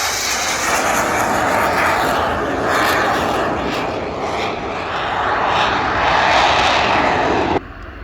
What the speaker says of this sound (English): the aircraft I was talking about from the Catalan group, the Fiat G91R